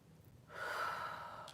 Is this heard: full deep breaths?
yes